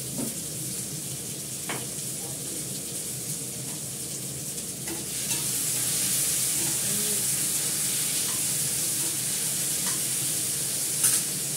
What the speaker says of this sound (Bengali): আলুটাকে ফ্রাই করে নিই ভালো করে।